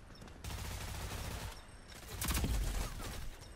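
Gunfire in the shooter game Rogue Company, rapid automatic bursts forming a dense crackling stream that cuts off, resumes, then swells into a louder close burst with heavier low thumps before fading.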